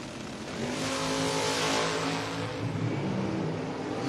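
A Chevrolet Camaro launches down a drag strip at a door-car drag racing event, its engine roaring loud and steady with rising harmonic tones across the whole span, heard alone without voices.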